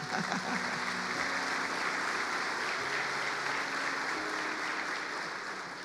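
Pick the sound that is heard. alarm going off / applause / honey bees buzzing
applause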